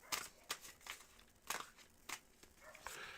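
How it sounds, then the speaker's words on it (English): Tarot cards shuffled in quick riffling bursts, several short crisp papery flurries spaced irregularly, close and fairly quiet with no talking. "I'm going to do a cleansing shuffle while I get waiting for that"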